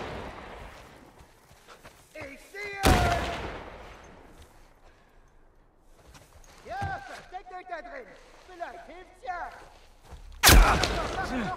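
Two loud, sharp sniper rifle shots crack several seconds apart in The Last of Us Part I, amid sporadic gameplay noises, with a person talking throughout.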